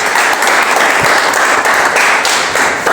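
A live entertainment-show audience claps loudly for itself, a dense, continuous wash of hands with a few sharper individual claps standing out, no talking.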